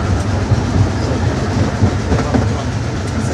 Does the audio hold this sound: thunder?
no